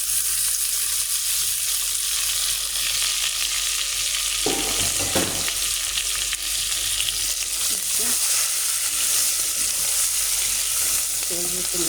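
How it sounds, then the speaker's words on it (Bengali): Chopped onion and garlic fry in hot oil with cumin seeds, giving a loud, steady, close sizzle throughout with a few brief stirring scrapes. "পেঁয়াজ রসুন একটু ভেজে নিয়ে"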